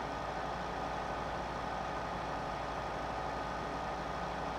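Tractor engine in Farming Simulator 15, set to pull a large tipper, running at a steady drone with a low rumble and a faint vibrating hum, even and unchanging throughout.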